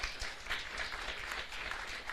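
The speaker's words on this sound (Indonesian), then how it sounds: "berikan tepuk tangan buat Tuhan" Congregation applauding during a Sunday worship service at a church, a continuous wash of clapping heard throughout at moderate volume.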